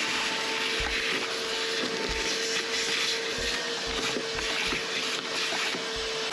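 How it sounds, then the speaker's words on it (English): A vacuum cleaner runs steadily, sucking debris out of the battery tray of a 92-95 Honda Civic, a constant whooshing drone with small knocks of debris heard alone. "this battery tray has a lot of debris in it, so I'm going to vacuum it out"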